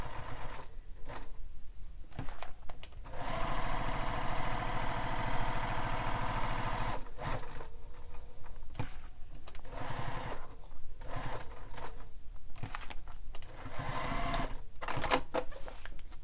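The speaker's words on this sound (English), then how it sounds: "you're just stitching around the outer edge of the overlay" Sewing machine stitching around the outer edge of a bag overlay in a series of whirring bursts, some short and some sustained, broken by brief stops as the fabric is turned.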